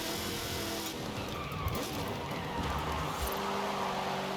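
A six-wheeled car losing grip in the racing game Forza Horizon 5, with a steady engine drone and continuous tire scrub and squeal at moderate level and no talk.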